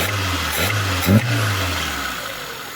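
A 1.3-litre Toyota engine fitted with a Solex carburetor idles steadily up close, a low continuous hum with a brief blip of revs partway through.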